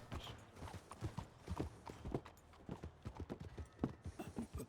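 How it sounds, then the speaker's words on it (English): Horse hooves clip-clop in a steady, fairly close rhythm while riding in the open-world western game Red Dead Redemption 2, with a low murmur of background sound beneath the repeated beats. "Ah, this fucking horse"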